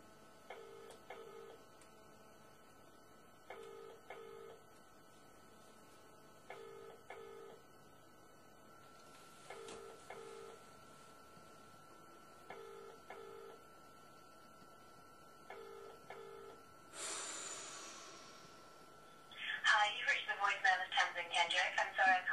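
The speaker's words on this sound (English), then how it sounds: "So the number's calling now." Ringback tone of a telephone call to a number: repeated double-pulse rings in a steady cadence, fairly quiet, followed at the end by a burst of noise and chattery sound as the call connects.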